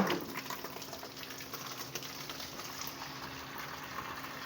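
Dirty water draining out while clothes are washed, a faint, steady rushing and trickling wash of liquid with no talk.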